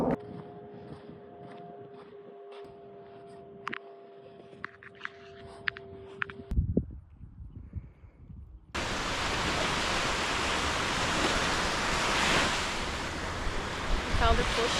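Ocean surf rushes loudly and steadily at a beach, a broad continuous wash of waves that takes over after a quieter opening with a low hum and brief sounds of handling.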